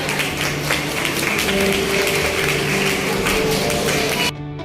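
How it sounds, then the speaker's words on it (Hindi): Sustained crowd applause for performers at a yoga day celebration, steady and loud throughout before stopping abruptly near the end, with faint tonal sounds beneath. "इनके लिए जोरदार तालियां"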